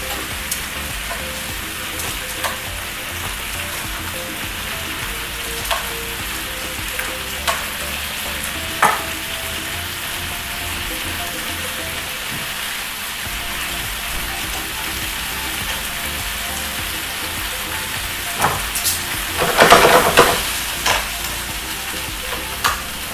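Tomatoes frying in a pan for tortilla soup, a steady soft sizzle throughout with occasional clinks and stirring knocks, louder scraping bursts near the end.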